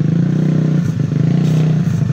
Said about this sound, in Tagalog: Narinig ko po yung motor.